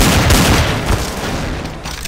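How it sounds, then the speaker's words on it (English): Counter-Strike: Source gunfire rattles in dense, loud bursts of shots, a continuous noisy barrage with explosive thuds throughout. "I hear gunshots."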